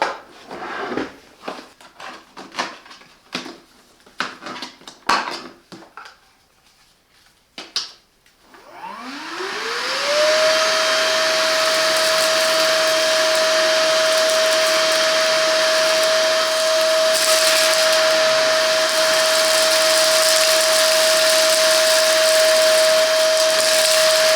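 A Hychika 18V cordless wet and dry vacuum with blower starts up after some handling clatter, its motor rising in pitch to a steady loud whine and a constant airflow roar that runs on alone.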